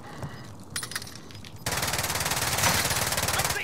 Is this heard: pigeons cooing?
no